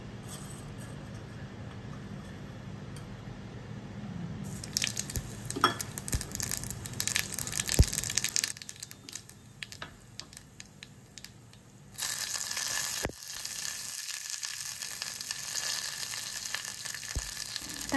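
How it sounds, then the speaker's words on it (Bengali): Asafoetida, mustard seeds, curry leaves and green chili hit hot mustard oil with a bright crackling sizzle and popping, fading and then returning in strong bursts with occasional stirring knocks. "সর্ষের তেলটা ভালোভাবে গরম হয়ে গেলে তার মধ্যে ফোড়ন দেব হিং, সর্ষে, কয়েকটা কারি পাতা আর কাঁচা লঙ্কা।"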